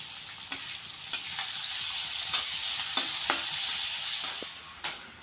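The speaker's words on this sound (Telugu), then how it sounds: "ఆనియన్స్ ఫ్రై అవ్వాలంటే ఎప్పుడు చెప్పే టిప్పే నేను సాల్ట్ వేస్తే తొందరగా ఆనియన్స్ ఫ్రై అవుతాయి" Onions sizzle steadily in a pan with salt added, a continuous bright frying hiss broken by sharp scraping clicks of a spatula stirring them about every second or so.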